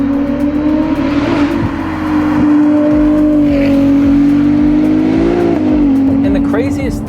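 Ferrari 296 GTB exhaust holding a steady, loud drone while driving, with a slight rise in pitch toward the end and continuous road noise underneath.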